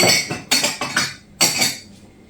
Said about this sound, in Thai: เก็บจานแล้วก็จะล้างจาน